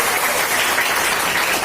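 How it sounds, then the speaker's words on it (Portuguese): Congregation applauding at a Portuguese-language prayer gathering, with a dense, steady wash of clapping that holds at an even level throughout and has no voices over it. "Se for para mim, tá bom essas palmas."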